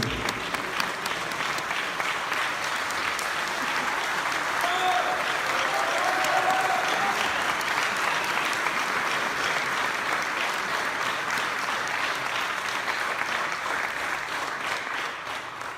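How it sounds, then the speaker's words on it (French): Sustained, dense applause from a large crowd at an opening gala fills the whole stretch, steady and loud with no pauses. "Prends, c'est pour toi, Jean, tous ces applaudissements."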